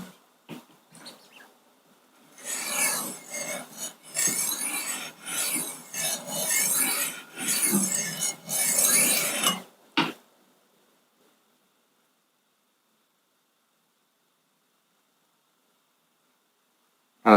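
A knife is sharpened on a Wicked Edge Go sharpener, giving a run of close, raspy stone strokes in rhythmic bursts for several seconds before stopping into silence.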